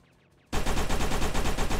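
Rapid automatic gunfire erupts after a brief quiet moment, a loud continuous burst of rhythmic shots like a video game weapon.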